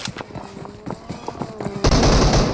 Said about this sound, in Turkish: Lan bizi vuruyorlar lan.